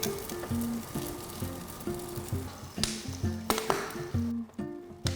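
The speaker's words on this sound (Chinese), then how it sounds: "也是烤到表面这样滋滋冒泡" Pork trotters grilling with spattering oil, a crackling sizzle under repeated light taps and clinks from cooking tools in a rhythmic pattern, close and moderately loud, no talk.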